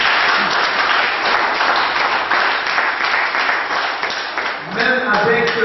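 An audience at a health product presentation breaks into loud, continuous applause, dense clapping that dips briefly before a voice starts speaking over it at the end.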